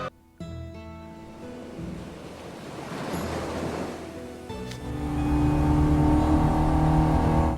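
Ocean waves at the water's edge at sunset in Disney Twisted Wonderland, a soft rushing surf swelling and receding over scattered musical tones, then growing into a louder, fuller wash toward the end.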